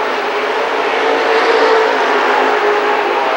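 Late model race cars at a dirt speedway in 1994, a loud continuous engine roar from a pack of cars racing past, steady throughout.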